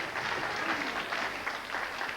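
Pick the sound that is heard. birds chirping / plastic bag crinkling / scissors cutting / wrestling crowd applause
wrestling crowd applause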